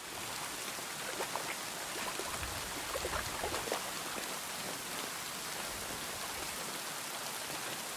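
Steady rain in the medieval game world of Kingdom Come Deliverance 2, a dense even hiss of falling drops on surfaces, continuous and fairly soft with no voices.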